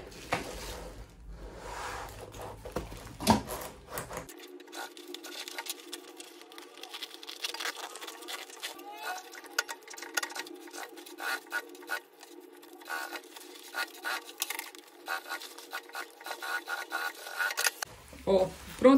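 Domestic sewing machine stitching a seam around a lunch bag, a steady continuous whirring run lasting several seconds, close and fairly quiet, with brief handling rustle at the start and end.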